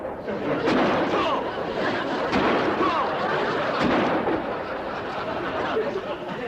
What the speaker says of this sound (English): I think you better use the shotgun